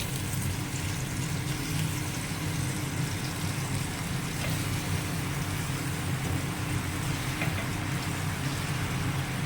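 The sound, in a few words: chicken wings sizzling in frying pan with onion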